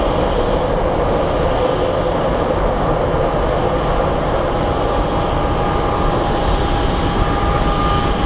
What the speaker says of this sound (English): we have a Delta, what appears to be an A319 or A320 that's going to be departing as well